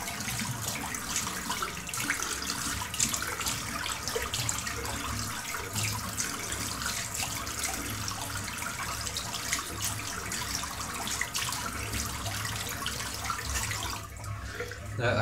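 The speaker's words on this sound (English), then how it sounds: "let's give it a good rinse" A tap runs steadily into a sink for a long stretch as a shaver rinses after shaving, a close, constant hiss of flowing water that stops briefly near the end.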